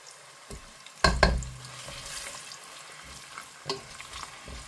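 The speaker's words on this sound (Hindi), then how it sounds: "तो सबसे पहले हम प्याज डालेंगे इसके अंदर और इसको हल्का गोल्डन ब्राउन करने तक हम फ्राई करेंगे।" Onions frying in a pan for chicken pulao sizzle steadily, with a loud clatter of stirring near the start and softer scraping later, heard close with no speech.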